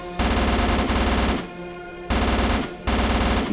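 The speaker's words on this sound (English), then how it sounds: "Let's use the SMG again." Rapid automatic SMG fire in the VR shooter Necro Mutex, loud and close, coming in three sustained bursts separated by short pauses.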